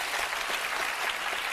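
A studio audience claps steadily on a talk show, a dense even wash of applause from start to finish with no pause.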